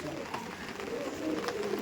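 Pakistani Chotiyal breed pigeons coo softly in a steady low murmur, several birds overlapping at moderate distance with no talk.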